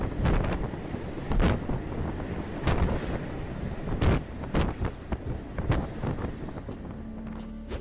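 Huge ocean waves and strong wind batter a ship at sea, with heavy gusting roar on the microphone and repeated crashing surges of water hitting the vessel, loud and close with no talk.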